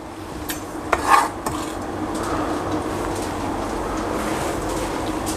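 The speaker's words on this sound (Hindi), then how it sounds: "इसको थोड़ा सा अच्छी तरह मिक्स कर लूँगा।" A spoon scrapes and stirs chicken dal with green chilies and fresh coriander in a metal pot, with a few clinks of utensil against the pot near the start, then a steady soft scraping.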